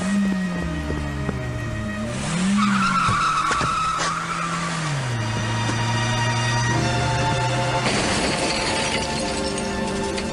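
A taxi cab skids hard with loud, continuous tire squeal, the pitch sliding up and down for about ten seconds with a rising burst of noise near the end; no one speaks.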